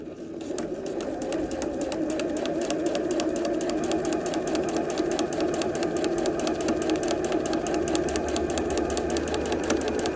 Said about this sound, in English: So I've just stitched across the next intersection between